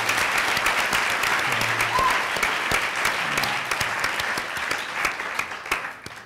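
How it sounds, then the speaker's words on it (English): An audience at an environmental humanities talk applauds steadily, with close, crisp claps over a crowd wash that thin out toward the end, while a few voices murmur underneath. "We're not skipping the applause on that one."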